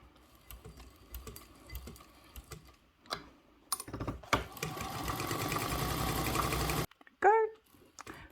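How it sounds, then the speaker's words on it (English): A sewing machine stitches vinyl in a steady, close whirring run of several seconds after a few short bursts, with quiet handling noises around it. "I don't want to shorten my stitch length too much more because I am sewing a vinyl"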